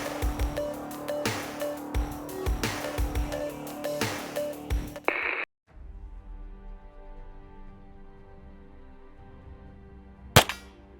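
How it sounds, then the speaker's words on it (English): Sig P225 A1 pistol fired at a steel target outdoors, a steady series of sharp, separate shots with short pauses, then quiet and one last distant-sounding crack near the end. "I'm excited to load it up and go ahead and smoke check the Tac Strike Fat Boy steel target behind us"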